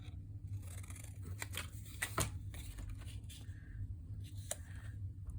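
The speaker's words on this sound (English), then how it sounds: "I need to cut this a bit." Scissors snip paper for a vintage-style journal, a series of quiet, crisp cuts with rustling paper between them, close and soft.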